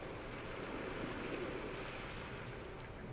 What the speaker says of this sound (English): the small water effects